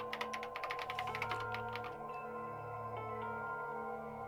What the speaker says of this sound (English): She began typing again.